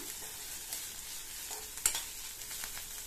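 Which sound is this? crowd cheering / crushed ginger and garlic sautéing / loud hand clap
crushed ginger and garlic sautéing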